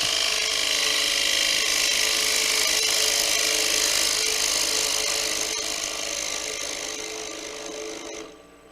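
A woodturning tool with its bevel rubbing cuts through the center point of a spinning wood piece on a lathe, giving a steady, loud, hissing scrape that holds for several seconds before tapering off near the end, with no talk.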